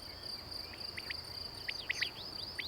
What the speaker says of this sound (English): A master digger, aka field cricket.